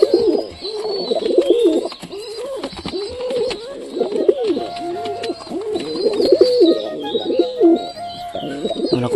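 Pigeons coo in repeated soft, throaty phrases at close range, with occasional faint chirps from other birds in the background and no talking.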